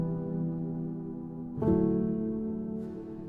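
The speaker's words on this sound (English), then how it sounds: "It is this double felt grand dash clear patch, and it sounds like this." A double felt grand clear piano patch with reverb plays soft sustained chords, one chord ringing out, then a fresh chord struck about halfway through and left to decay, mellow and close with no talking.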